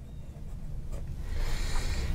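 Moonman C2 fountain pen with an oblique double broad nib scratches softly across paper in a brief stroke of writing, close and quiet, without talk.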